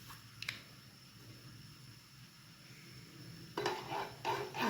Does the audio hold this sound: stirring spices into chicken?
yes